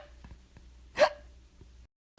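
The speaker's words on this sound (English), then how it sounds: "I have the hiccups." A single sharp hiccup, voiced by a storyteller for a hippo character, pops out on its own midway through an otherwise quiet stretch.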